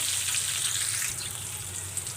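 Spice paste for a cauliflower and red lentil curry frying in a pan, a soft continuous hiss and crackle close by, with faint scraping under the sizzle and no talking.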